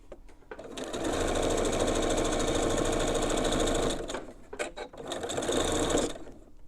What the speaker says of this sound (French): nous devons bien coudre sur le ruban et pas sur la fermeture